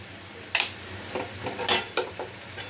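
Spices stirred into a chickpea and split pea dal tadka in a pan, a few sharp spoon scrapes and clinks against the pan over a soft background hiss.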